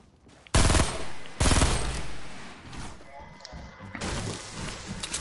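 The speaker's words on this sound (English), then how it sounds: "He was just shooting there." Video game gunfire in a battle royale match against bots, two loud sharp bursts of rapid shots up close, then quieter scattered shooting and clatter, with a final burst near the end.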